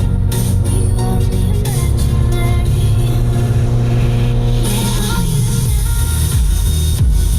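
An MG ZR car drives along a UK road, its engine giving a steady, loud drone with road noise throughout; the engine note eases and drops lower near the end.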